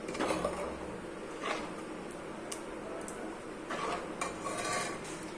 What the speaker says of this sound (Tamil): நல்லா வந்து கிளறி விட்டாச்சு